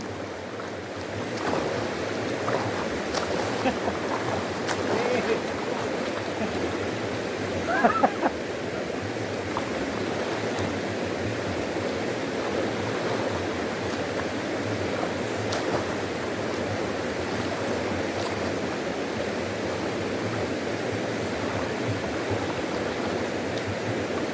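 Strong river water rushing steadily past, a broad continuous roar like surf that holds at the same level throughout, with faint voices now and then beneath it.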